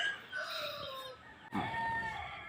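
A rooster crows on a chicken farm, then another crow follows after a brief pause, fairly faint and somewhat distant, with light clucking in the background.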